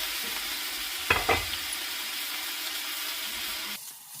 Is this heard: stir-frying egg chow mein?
yes